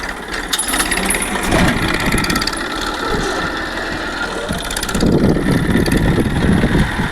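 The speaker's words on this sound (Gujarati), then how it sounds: "મેસી 10-35 માત્ર 35 હોર્સ પાવરનું ટ્રેક્ટર જોવો તમે કેવું જોરદાર પ્લાવ આંકે છે" A 35-horsepower Massey 1035 tractor ploughs with a two-bottom plough, its engine chugging loud and steady under load, with mechanical rattling and a rise in rumble partway through.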